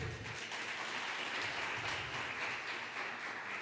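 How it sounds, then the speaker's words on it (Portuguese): A church congregation applauds together, a steady broadband wash of many hands clapping at even loudness throughout, with no clear voices over it. "Você pode aplaudir Jesus pela igreja?"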